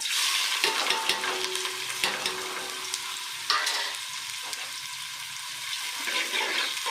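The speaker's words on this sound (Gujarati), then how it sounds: "હવે આપણે અંદર ડુંગળી નાખશું" Loud, steady sizzling of onions frying in a pot, with occasional stirring scrapes and clatters, close by and with no talking.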